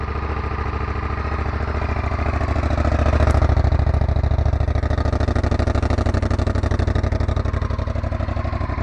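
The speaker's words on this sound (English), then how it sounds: "motorcycle runs as it should." A Honda VTR 1000 Firestorm motorcycle idles steadily at close range, a loud, even V-twin throb with a slight rise in revs partway through.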